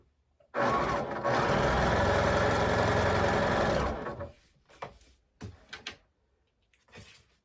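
A sewing machine stitches quilt blocks for an Irish Chain quilt in one loud, steady run of about three seconds, then stops, leaving a few brief handling knocks and clicks.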